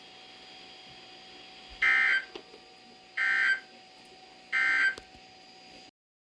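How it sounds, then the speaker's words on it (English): NOAA weather radio warning alarm tone sounds three times, loud, evenly spaced one-second blasts over a faint hissing broadcast background, ending abruptly. "This has been a test of the NOAA radio warning alarm device."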